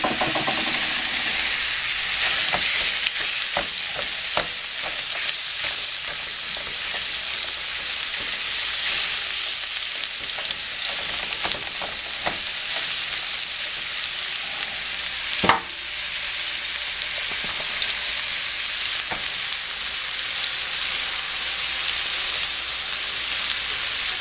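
Fish sizzles and fries in a pan for a coconut fish curry. The hiss is steady and loud, broken by occasional clicks and scrapes, with one sharp knock midway and no talking.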